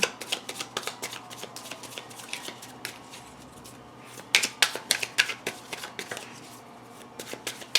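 Tarot cards being shuffled, a run of quick riffling bursts that are close and crisp, with a brief pause before a louder second round of shuffling.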